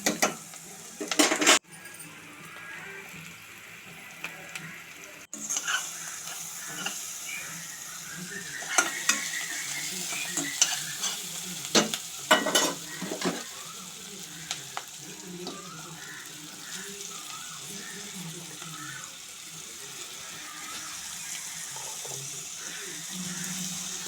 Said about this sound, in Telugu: బీరకాయ ముక్కలు వేసుకుని తిప్పుకోవాలి